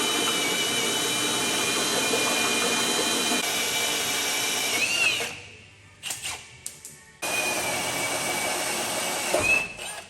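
Hole saw grinding through a steel vehicle chassis on a chopped Nissan GQ Patrol during a long-arm suspension upgrade: a loud, steady whining drill bite that cuts out briefly with a few short bursts, then resumes and runs on, alone.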